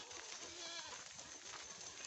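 Goats on a village goat farm in Nepal bleat faintly from some distance, giving a few wavering calls over a hissy, quiet background with no talking.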